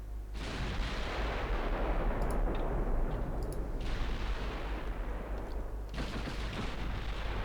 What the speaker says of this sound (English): Both ships are now firing.